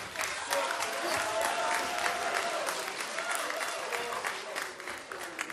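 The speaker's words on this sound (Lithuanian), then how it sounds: "Kur plojimai Vandai?" Audience applause at an awards ceremony in Lithuania, a dense steady wash of many hands clapping that holds at moderate level throughout, with faint crowd murmur mixed in.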